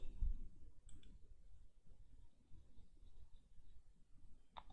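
A computer mouse clicks a few times, sharp and faint, over low background hum during software installation on a Windows 11 PC.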